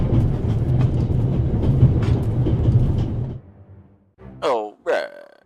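A moving train in The Raven Remastered video game rumbles loudly and steadily for about three seconds, then cuts off and is followed by a couple of short, voice-like utterances.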